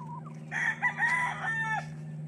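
Roosters and chickens at a game farm in Limmansangan, Bauang, La Union crow loudly at close range over a steady low hum, with one long crow breaking into clucks and further calls.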